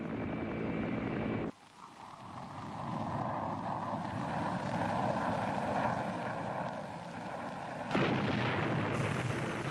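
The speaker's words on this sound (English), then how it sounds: "Fighter bombers and helicopter gunships hammered the landing zones." A loud, continuous roar of fighter-bomber and helicopter gunship engines and rotors attacking landing zones in the Vietnam War, steady for several seconds, with an abrupt jump in intensity near the end.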